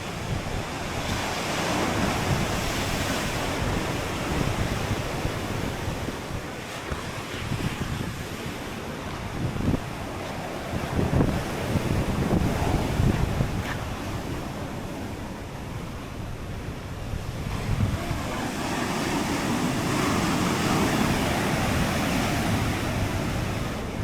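Strong surf crashes steadily onto a beach in Malaysia near Bidong Resort, Kuala Terengganu, with loud gusting wind buffeting the microphone throughout and the roar swelling again toward the end.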